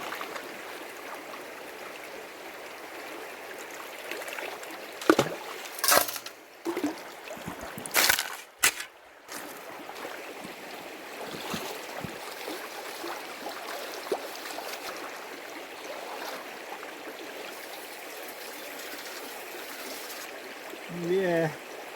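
Gravel and water swirl and slosh in a gold pan at a creek in a Canadian gully, a steady close trickling with a few louder splashes midway, under intermittent talk.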